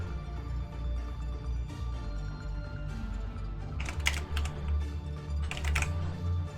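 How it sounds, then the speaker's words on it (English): Rapid clatter of computer keyboard typing at a Heroes of the Storm esports draft, with bursts of quicker, louder keystrokes over a steady low background hum. "I'm typing everybody's names in here"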